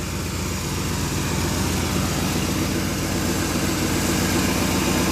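A carbureted GM 307 engine in an old Safari with rust and mismatched front fenders runs continuously, with a steady, dense rumble at a fairly loud level and no pauses.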